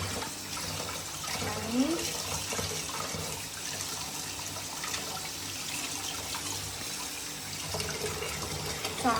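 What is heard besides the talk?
washing pomfret fish under running tap water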